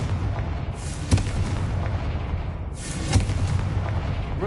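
Two booming blasts from the Confringo fire spell in Hogwarts Legacy land a couple of seconds apart, each a sharp crack that swells into a rumbling roar over steady game ambience.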